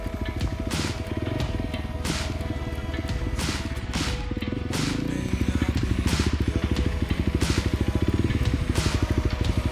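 An enduro motorcycle climbs along a rough off-road mountain ridge trail, its single-cylinder engine chugging in a steady close throb with periodic revs and clattering over rocks, growing louder and more insistent toward the end.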